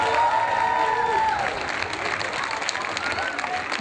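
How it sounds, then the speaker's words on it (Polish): Crowd applause and cheering at an outdoor town-square celebration in Polkowice for a women's basketball championship, a steady wash of clapping that carries on under a voice on a loudspeaker. "Wielkie brawa dla Jacka Winickiego."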